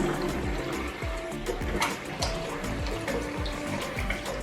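Water running from the tap of a newly installed bathroom sink and draining down the waste: a steady close rushing and gurgling flow, fairly loud, with no talk.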